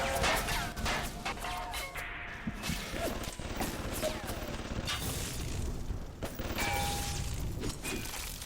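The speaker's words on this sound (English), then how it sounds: "I hit a gun turret with another gun turret" A gun turret is hurled into another gun turret in BioShock, producing heavy metallic crashes and clanks amid a busy, loud stream of impacts and mechanical game noise.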